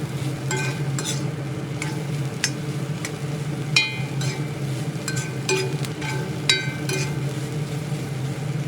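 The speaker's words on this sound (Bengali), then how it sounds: "এই তেলের মধ্যে সয়া চাংগুলো দিয়ে সামান্য লবণ সহযোগে ভালোভাবে নেড়ে চেড়ে হালকা লালচে করে ভেজে নেব" Soya chunks fry in hot oil with a little salt, stirred around the pan until lightly reddened, giving a steady close sizzle broken by repeated scraping clinks of the spoon, with no talking.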